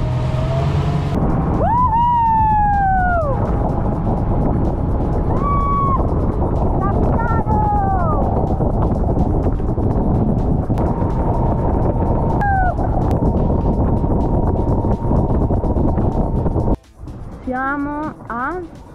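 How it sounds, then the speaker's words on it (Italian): A boat motor runs at Cala Sabina in Sardinia with two people aboard, a loud steady drone filling the clip while voices talk over it, then dropping away sharply near the end. "stiamo per testare questo motore alle mie spalle"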